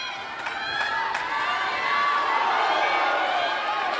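Spectators at the World Table Tennis Championships finals in Doha cheer for Sun Yingsha, a broad crowd roar swelling over several seconds with a few sharp claps and whistles, fairly loud and continuous.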